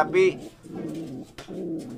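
Pigeons being paired coo with low, throaty rolling calls, repeated in short bursts close by, broken by a brief higher cry and soft rustling from scuffling birds.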